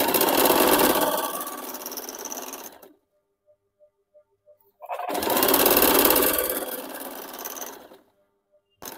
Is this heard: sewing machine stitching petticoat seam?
yes